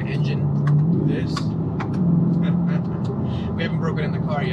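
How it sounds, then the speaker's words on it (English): A Chevrolet C8 Corvette 1LT's engine rumbles low and steady at close range, with a couple of slight rises in pitch, while a person talks over it. "Music to my ears is me hearing my engine do this."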